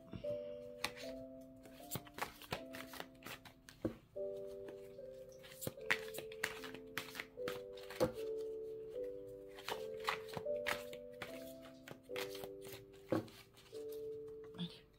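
Oversized tarot cards are shuffled by hand in quick, crisp riffles and soft taps over a steady, gentle background melody.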